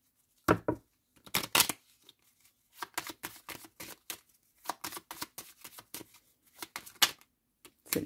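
Tarot cards being shuffled and drawn by hand: close, crisp bursts of riffling and slapping card sounds in irregular clusters separated by short quiet gaps, with no talk.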